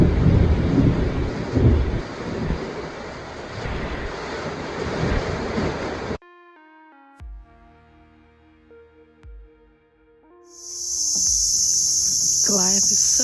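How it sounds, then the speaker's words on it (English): A dense rain hiss in South Africa fills the first few seconds, then gives way to soft melodic notes before a bright, high hiss swells back in. "It's raining now."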